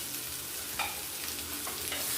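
Chopped onions sautéing in a pan on a home stove, a steady soft sizzle with a few brief scraping stirs, close and moderately quiet with no talking.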